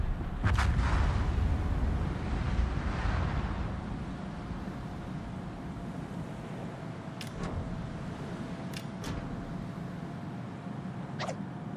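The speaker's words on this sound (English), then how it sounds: "Concentrate fire on the enemy warship." Naval guns fire in the World of Warships game aboard the Tromp: a heavy boom at the start rolls into a long low rumble, with a few sharp clicks scattered later and no speech.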